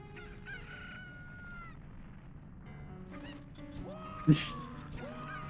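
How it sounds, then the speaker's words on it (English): Chickens in the game Link Ace Attorney cluck and crow, with a rooster call sounding clearly above scattered squawks, game music, and a sudden loud burst. "Where did that chicken come from?"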